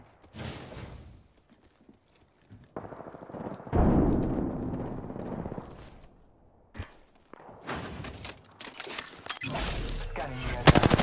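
Gunfire crackles in Apex Legends, coming in uneven bursts of varying loudness between stretches of quieter game sound, with game voice lines spoken in between.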